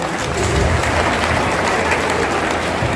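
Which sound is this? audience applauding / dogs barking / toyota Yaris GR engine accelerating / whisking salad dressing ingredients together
audience applauding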